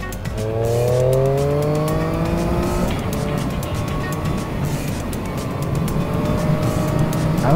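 Riding a Triumph Street Triple S motorcycle, with a steady engine drone that rises in pitch through a gear, then continues under loud wind rush, sustained and close.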